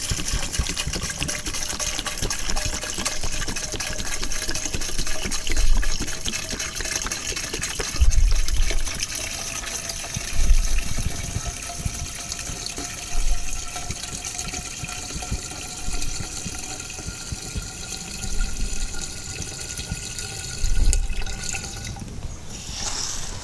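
Water pours steadily into a mixing container with green grass paint for a lawn spray, a continuous liquid gush and trickle with occasional splashy surges, close and fairly loud throughout.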